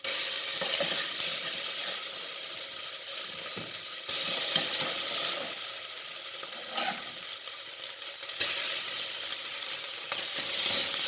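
Nigerian jollof rice frying in a pot on a cooker turned down to minimum gives a steady close sizzle with occasional stirring scrapes, continuous and without talk.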